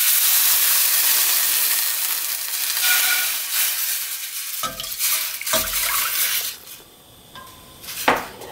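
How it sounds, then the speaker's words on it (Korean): Water poured into a pot of heated sesame oil while making Korean rice cake soup gives a steady hissing wash at first, then a few clanks of pot and utensils, with no talking. "이렇게 달구신 다음에 물을 붓고요."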